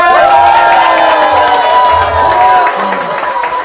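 A crowd of elderly attendees at a recreation lecture cheers and shouts, loud and close, with whoops and a held vocal tone over the noise before it eases slightly.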